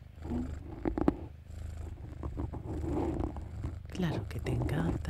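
A small kitten purrs steadily and softly up close while being combed, with a whispering voice speaking gently over the continuous purr.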